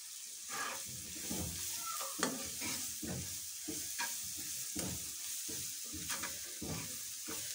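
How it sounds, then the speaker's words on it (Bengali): Turmeric and ground spices fry in a pan, sizzling steadily while a utensil scrapes and stirs them in a regular, close rhythm. "হলুদ দিয়ে দিচ্ছি, মশলাগুলো।"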